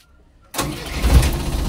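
An Isuzu 4BC2 truck diesel engine cranks and fires after a moment of quiet, settling into a loud, rough, close idle.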